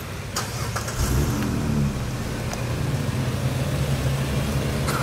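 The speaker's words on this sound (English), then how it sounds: "he's flooring it right now" A car accelerating hard at full throttle, its engine roaring in a steady, loud, sustained drone that swells slightly after the first second, heard up close with no talking.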